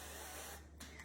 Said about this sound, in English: I'm just gonna lightly spray my dish.